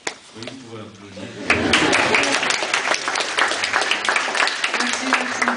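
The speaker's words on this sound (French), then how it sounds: "Oui, vous pouvez applaudir." A theatre audience breaks into applause after a play, a dense burst of clapping that rises sharply and continues strongly, with voices talking briefly before and during it.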